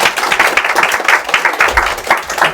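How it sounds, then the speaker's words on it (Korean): An audience claps together to welcome a speaker at a Chinese-language class, a dense, close burst of hand claps with an uneven, lively rhythm and no talk over it. "네, 다 같이 박수로 환영해 주시죠."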